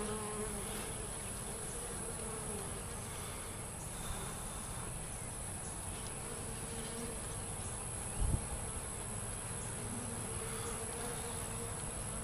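Dense, steady buzzing of a honey bee swarm in a top bar hive, a continuous close drone that fills the whole stretch with no talking.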